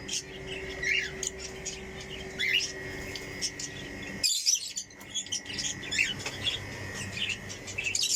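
Small birds chirp and tweet in scattered bursts throughout, fairly close, over a steady low background hum.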